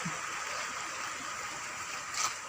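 A village river in Tulunadu runs full, making a steady, even rush of flowing water that holds at the same level throughout, with no voices.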